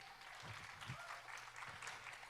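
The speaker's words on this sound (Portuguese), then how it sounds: "Uma salva de palmas para eles" Very faint, distant clapping from a group, applauding children after a hide-and-seek style game at a church gathering, with a few low thumps mixed into the thin, quiet patter.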